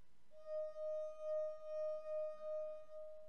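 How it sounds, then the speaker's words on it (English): A wine glass filled with more water is rubbed around the rim to make it sing, producing a lower sustained pure tone that pulses gently in loudness, close up with no talking. "It gets lower, which means with less water,"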